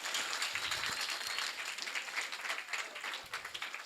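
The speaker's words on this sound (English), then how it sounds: "Please give a big clap." A classroom audience breaks into sustained clapping and applause for a student, dense and lively throughout with a few voices mixed in.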